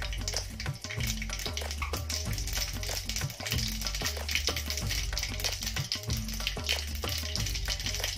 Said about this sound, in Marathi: तेल मला तापलेलं आहे, त्यात मी मोहरी टाकते.